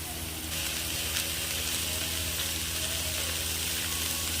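Vegetables and boiled chicken frying in a pan for a Bengali snack, a steady loud sizzle and crackle that holds level from start to finish, close and with no talk.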